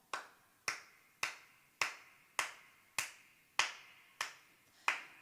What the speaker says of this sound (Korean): 아무 생각 없이 이렇게 박수를 쳤어요